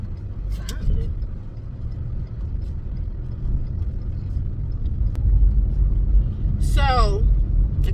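Cars driving past on a road in the morning, a steady low traffic rumble with a passing vehicle swelling near the end, a voice briefly heard over it.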